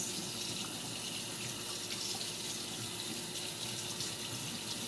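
Steady running tap water splashing over broccoli florets in a kitchen sink, a continuous close hiss of gushing water with no breaks or talk.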